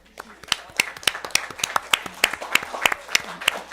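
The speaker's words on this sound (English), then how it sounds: "please stand up so we can give you a round of applause" A small group at a school board meeting applauds retired teachers with distinct, close, rhythmic handclaps in a steady run of several seconds, with some voices alongside.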